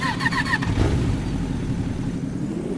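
A motorcycle in the Indonesian delivery-rider game Ojol The Game revs its engine. Quick rising throttle blips come first, and then it settles into a steady, loud, close idle drone.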